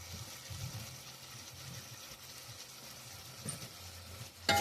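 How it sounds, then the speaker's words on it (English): Chicken curry stir-fries in a pot, giving a steady low sizzle and bubbling that holds evenly throughout, with a brief louder clatter at the very end and no voices. "Let it stir fry up a little bit."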